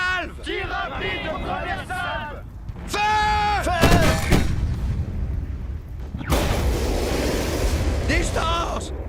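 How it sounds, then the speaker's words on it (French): Heavy booming blasts of naval cannon salvos erupt in bursts amid shouted French commands, with rumbling noise lingering between the shots. "Tirez avec les 3 canons! Feu!"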